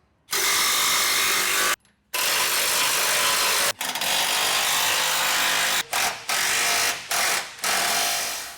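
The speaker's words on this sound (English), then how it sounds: "now it's just time to tighten all the bolts down" A ratchet tightens the bolts on rock sliders on a third-generation Toyota Tundra frame. The mechanical whirring is loud and close, running in long stretches broken by several short pauses, with no talk.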